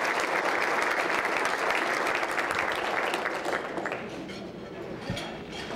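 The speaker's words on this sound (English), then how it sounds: "let's give Mary a big round of applause" An audience at a State of the City speech in Torrance, California, breaks into a full round of applause, dense clapping from many hands that stays loud, then gradually thins and softens with some voices mixed in.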